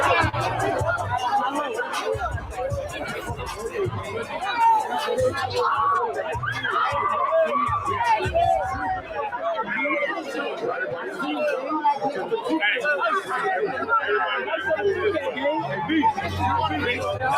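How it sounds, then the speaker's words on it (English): Dense crowd chatter and babble from a packed concert audience in Los Angeles, with a steady hum of many voices, occasional whoops and faint screams running throughout. "Nah, it must be an LA crowd"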